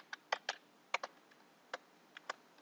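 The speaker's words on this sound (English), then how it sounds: "Type the table name, type the table column which you want to extract" Computer keyboard typing, a handful of sharp, irregular key clicks, quiet and close, with no voices.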